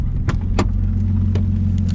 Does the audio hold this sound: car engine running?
yes